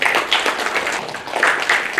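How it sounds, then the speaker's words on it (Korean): An audience at a Korean lecture-concert applauds, with dense, fairly loud clapping that continues for about two seconds. "박수 한번 쳐주시고"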